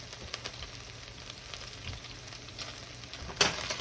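Onions frying in a deep pan on a home stove, a steady close sizzle with faint stirring scrapes and a brief louder crackle near the end, no talking.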